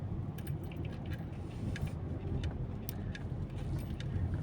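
Heavy road traffic on C5 and Commonwealth: a steady, low rumble of car engines and tyres with faint scattered higher clicks, continuous throughout and free of speech.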